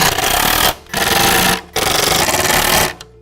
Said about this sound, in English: Once that's there, we can start putting the screws back on.